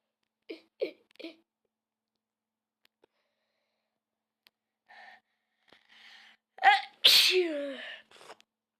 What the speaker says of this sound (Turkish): of ya hapşurdum